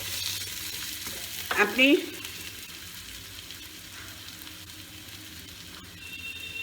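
Potatoes for a katla fish curry fry lightly in a pan with a soft, low sizzle, broken by a brief clatter of stirring or scraping in the middle; one short word is spoken.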